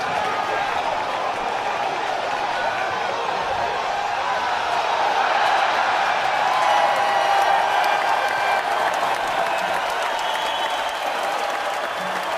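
A golf gallery at the Masters on Sunday applauds a shot with steady, loud clapping and scattered cheers. The applause holds evenly from start to finish.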